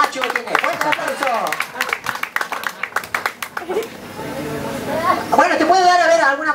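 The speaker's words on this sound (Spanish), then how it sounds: "fuerte el aplauso para Carolina" A studio audience gives Carolina a burst of clapping that runs alongside a host's talk, loud and close, then fades as the speaking continues alone.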